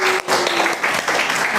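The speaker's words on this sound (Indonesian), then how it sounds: "Kita beri aplaus dulu untuk kelompok" A classroom audience claps for a student group that has just finished presenting, a brief burst of dense, close applause from many hands at once, with voices mixed in.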